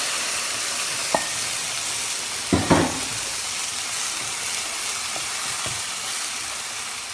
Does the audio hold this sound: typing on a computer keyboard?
no